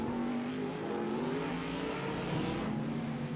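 Racing cars in a sim-racing championship at Circuit de Nevers Magny-Cours brake hard into a hairpin. Their engines give a continuous droning whine that falls in pitch as they slow, with no talking.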